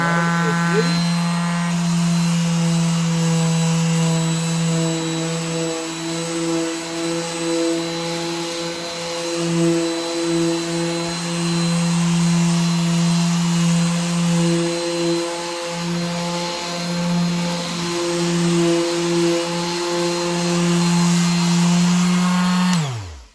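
An Ozito 3-in-1 electric sander with 60-grit sandpaper runs steadily for the whole stretch, a loud close motor whine with strong tonal hum that cuts off abruptly at the end.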